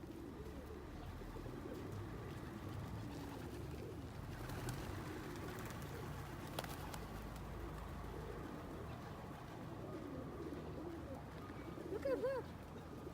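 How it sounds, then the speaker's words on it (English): Pigeons at a castle site where seed is given out coo softly in the middle distance over a steady outdoor murmur, with a few clearer calls near the end. "you can feed pigeon here. There's like a lot of them"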